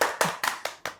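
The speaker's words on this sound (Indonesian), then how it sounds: "Boleh semua tepuk tangan untuk Bu Ida." Audience clapping for a university dean at an Islamic faculty talk event, heard as five distinct sharp claps spaced evenly across a second, close and fairly loud with no talk over them.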